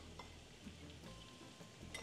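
Garlic sautéing in a pan for pancit bihon, a faint, steady sizzle with a few light clinks of a utensil stirring.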